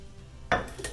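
A shaken rum cocktail is strained into a coupe glass, with a brief clink of metal and glass followed by a short splash of liquid, close and fairly quiet, lasting under a second.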